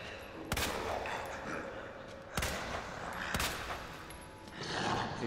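Gunfire in the video game Resident Evil 2 Remake, with three sharp, isolated shots spaced a second or two apart over a low, rumbling game ambience.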